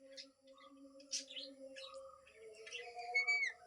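A pet parrot chirps and tweets in short bursts with bright, warbling calls, heard close and fairly quiet over a steady low hum.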